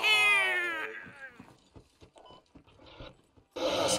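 A person imitates a cat's meow with one drawn-out, strongly voiced call up close. Scattered faint clicks follow, then another loud burst at the end.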